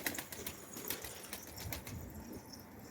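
Pigeons flap their wings in quick repeated bursts while landing on a rooftop loft, a busy close fluttering that continues through the moment with no voices.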